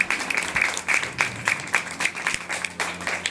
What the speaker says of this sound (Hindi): मैं चाहूंगी कि तालियों की गड़गड़ाहट के साथ संतोष मैडम का सम्मान किया जाए।